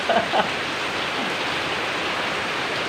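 Steady rain pours onto roof tiles in a dense, even hiss that runs unbroken throughout, with a couple of faint brief knocks near the start.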